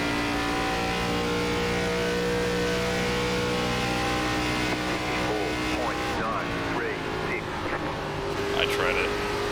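Race car engines in the iRacing NASCAR video game, ARCA Series at Indianapolis Motor Speedway, drone loud and continuous throughout, their pitch shifting as cars rev and pass, with a voice talking under the roar.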